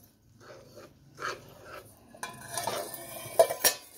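Sesame and peanut powder being stirred into sugar syrup in a pan for tilgul, heard as scattered scraping and clinks of a spoon against metal that grow denser and louder toward the end, with no one talking.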